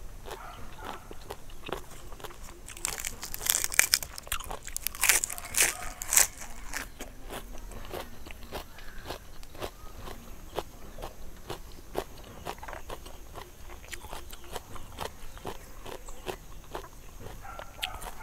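Crunchy field apple snails are eaten with fresh vegetables as a spicy Thai som tam salad. Close, repeated crisp bites and chewing crunches come over a steady background, louder in the first few seconds, with no talk.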